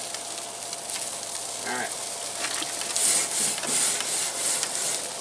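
An onion sizzles steadily on a grill's hot coal bed, a continuous hiss with crackling bursts, close and fairly loud, with a brief word spoken over it.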